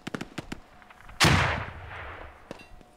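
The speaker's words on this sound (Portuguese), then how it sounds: "Explosão." An explosion in the video game Squad, a single loud, close blast with a long rumbling decay, preceded by scattered distant gunshots.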